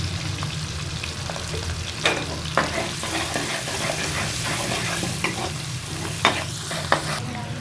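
Onions fry in ghee with a steady, close sizzle, while occasional sharp scrapes and clinks of a stirring spoon cut through the hiss.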